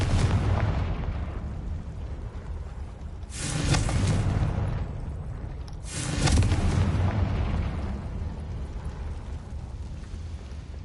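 Confringo blasting spell explosions in Hogwarts Legacy on PS5, two heavy rumbling booms a few seconds apart over a continuous low roar, no speech.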